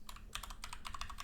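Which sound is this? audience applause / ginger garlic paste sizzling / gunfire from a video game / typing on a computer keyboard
typing on a computer keyboard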